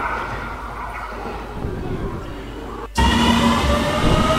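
JR Shikoku limited express trains rumble past nearby at Marugame Station during the morning rush, a continuous roar of wheels and motors, the sound shifting abruptly as another train joins, no speech.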